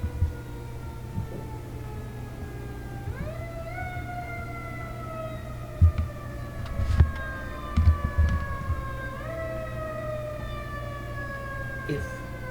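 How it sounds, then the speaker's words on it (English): An emergency vehicle siren wails outside, its rising and falling tone sweeping repeatedly at moderate distance over a low steady hum, with a few soft knocks and bumps nearby. "I'll wait for that siren to go, because it's actually just getting worse."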